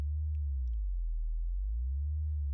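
A lo-fi lead synth patch built in Reaktor Blocks holds one low, pure, sine-like tone with a slight wavering. It plays steadily and alone, with faint high blips above it.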